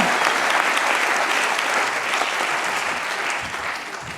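A gala audience applauds performers, steady dense clapping from a large crowd filling the room throughout before easing slightly at the end.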